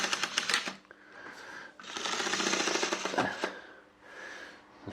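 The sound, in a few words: secondhand model train locomotive running on track, strange noise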